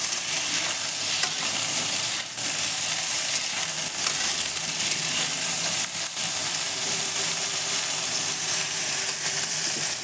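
Eggplant pieces fry in a pan with a constant, loud bright sizzle, and stirring scrapes and clatters now and then over the hiss.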